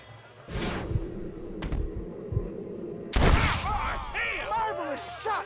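Gunshots in the Western game Red Dead Redemption: a few sharp reports ring out over rumbling background, then a louder burst of firing with ricocheting echoes, with voices present.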